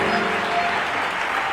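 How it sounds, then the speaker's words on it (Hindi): A church congregation applauds together for Jesus, a loud, continuous, dense clapping that fills the room with no pauses. "हर कोई जो यहां पर बैठा हुआ है, यस्सु के लिए तालियां बजाएं"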